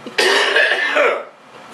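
A single harsh cough with throat clearing, close and loud, from someone whose mouth and throat are burning after eating hot sauce at a taste test.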